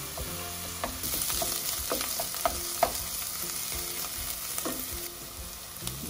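Two small minced onions sizzle in a pan for a lamb mince curry, a steady frying hiss broken by occasional pops and stirring scrapes, close and continuous without any talking.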